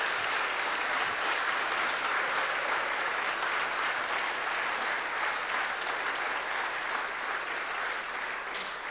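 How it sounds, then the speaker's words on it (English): A church congregation at a Baptist morning service claps warmly for a sustained stretch. The applause is dense, even and moderately distant, tapering slightly toward the end, with no speech over it. "give Manju just a little round of applause"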